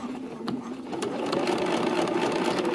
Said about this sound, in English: We are going to now top stitch it in place.